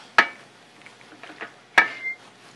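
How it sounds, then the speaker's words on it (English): A utensil stirs penne with cherry tomatoes, black olives and parsley in a pan, giving two sharp metallic clinks about a second and a half apart with soft scraping between them and no talking. "Stir it a little bit."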